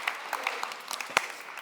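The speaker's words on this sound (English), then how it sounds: "Let's give Anna a nice big round of applause as well" An audience at a confidence and hypnosis seminar claps in a dense patter that holds steady at a moderate level, with sharper individual claps standing out.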